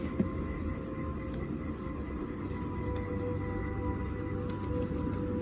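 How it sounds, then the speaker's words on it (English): Crickets chirp at night in a continuous, moderately loud chorus of thin, steady trills layered over a low background hum, with no voices present. "At night time, you might hear chirping like this."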